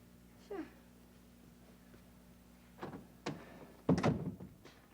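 Doors are closed indoors, a few dull thunks and knocks spread across several seconds, the last one loudest, with a faint whine early on and a low steady hum underneath.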